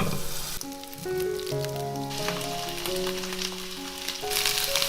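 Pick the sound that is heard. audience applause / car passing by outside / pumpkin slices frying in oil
pumpkin slices frying in oil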